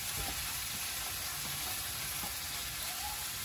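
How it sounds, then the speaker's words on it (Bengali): Pointed gourd slices, coated in salt and turmeric, fry in a wok that was just used for fish, giving a steady broadband sizzle with occasional soft stirring clinks throughout, fairly quiet and with no talking. "মাছ ভাজার কড়াই একবার পটলগুলো ভেজে নেব"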